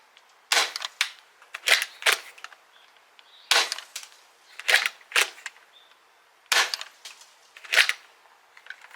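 A Dart Zone Pro MK 2.1 blaster fires foam darts in three bursts of sharp, snapping shots, each burst holding three or four quick cracks separated by brief quiet, close and crisp with no talk.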